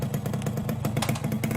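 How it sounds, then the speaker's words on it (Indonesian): A motorcycle engine runs just after a repair at a workshop, with a steady, loud, close putter and a regular clattering pulse. There is no talking over it. "Motor saya kok jadi malah hidup gini?"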